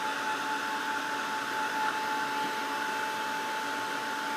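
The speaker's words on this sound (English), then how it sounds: "I like to use my handy dandy heat gun" A steady, loud blowing roar with a constant whine, like hot air forced from a heat gun, running evenly throughout without pause.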